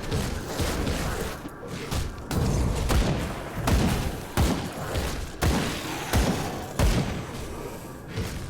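Guns fire in the video game Grim Dawn: a steady run of punchy thuds and booms about every half second to second, layered over a continuous busy game soundscape.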